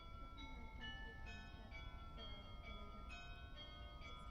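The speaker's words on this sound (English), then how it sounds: "Oh, we got the bell going." A bell rings repeatedly in a steady rhythm over a constant low rumble, with struck tones recurring roughly every half second throughout.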